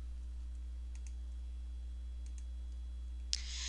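Faint, light clicks from a computer mouse over a steady low electrical hum in a quiet room, followed by one sharper, louder click near the end.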